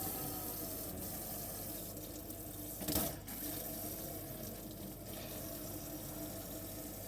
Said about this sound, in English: Make sure the pump's on to get a pressurised flow of water.